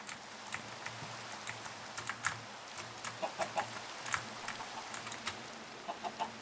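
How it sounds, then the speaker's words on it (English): A chicken clucks softly in the video game Minecraft, a few faint, brief clucks over a low hum and scattered sharp keyboard clicks. "Why is there a chicken up here?"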